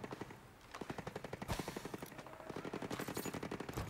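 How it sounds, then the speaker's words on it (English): Rapid bursts of machine gun fire in Ghost Recon Breakpoint rattle continuously, with repeated volleys of automatic shots at a steady, fast rhythm, moderately loud. "Gunshots over there, though. There are gunshots"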